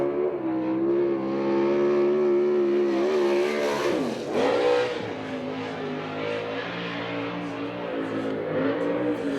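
A USAC/CRA sprint car powers out of turn 4 on a Tucson, Arizona dirt track, its engine a loud, sustained high-pitched drone that dips briefly in pitch midway before climbing and holding again.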